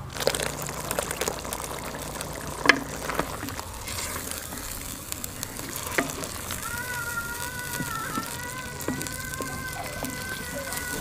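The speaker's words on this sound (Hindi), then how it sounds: "चिकन को हमने वाइट होने तक जो है वो फ्राई करना है" Chicken fries in a pan, a steady, soft sizzle with occasional pops and stirring clatter throughout, close up, and a brief high tone near the end.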